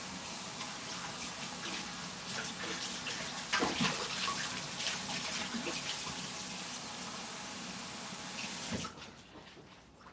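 Warm water runs from a kitchen tap into a one-cup measuring cup, a steady close gushing stream that stops near the end, with no one talking.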